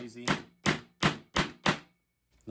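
Five evenly spaced, sharp metallic thunks come from the flat back of an HX Outdoors Mercenary tactical hatchet driving something in, close and loud, with a few words spoken between strikes.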